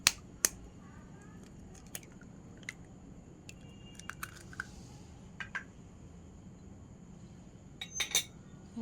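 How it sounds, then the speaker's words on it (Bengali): Eggs cracked against a hard edge while making potato cheese balls: a few sharp, isolated cracks and clicks, one near the start and a small cluster near the end, in an otherwise quiet kitchen. "ডিম ফাটিয়ে নেব।"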